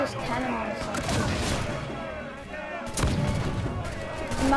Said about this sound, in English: And you can use this cannon on something.